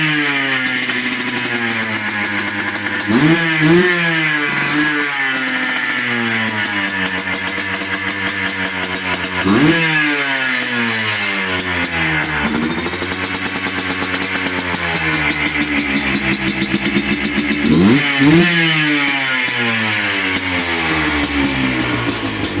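A Yamaha Blaster ATV engine idling loudly nearby, rising into several sharp revs with pitch sweeping up and falling back to a buzzing idle, with no voices.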